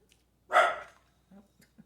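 Dogs in a home kitchen where a roast turkey and its giblets are cooking let out one loud bark, followed by a couple of faint, short yips or whimpers, with no speech.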